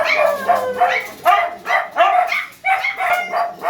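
A dog barks repeatedly nearby in a quick series of sharp, high yaps, loud and close.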